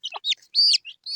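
High, thin chirps from a native chicken chick, a few short calls in quick succession, close by with brief pauses between them.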